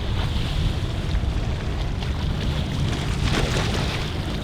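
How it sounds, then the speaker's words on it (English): Steady wind off a lake rushes and buffets across the microphone outdoors, with a broad roaring texture and faint gusts; no voices. "See how it's recording the sound with a little bit of wind"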